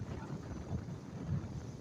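Strong evening wind sweeps across a lake at Nong Pla Lai, roaring as a steady, low buffeting rumble against the microphone for the whole stretch, with no voices.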